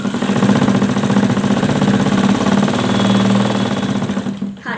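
A sewing machine stitches a blouse panel with its lining attached, its motor running a touch slow on a low battery, giving a steady close-up whirring hum that cuts off near the end.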